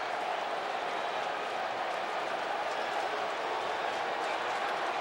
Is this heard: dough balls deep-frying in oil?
no